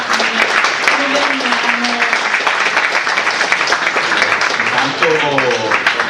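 Audience applause at a public counter-conference against the Pedemontana road in Adria, a steady dense crackle of many hands filling the room, with a voice talking over it near the end.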